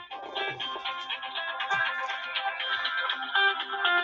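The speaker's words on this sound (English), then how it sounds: "I'm getting a phone call." A phone's ringtone plays a steady repeating melody for several seconds, clear and moderately loud with no voices over it.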